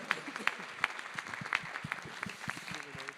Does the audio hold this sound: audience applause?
yes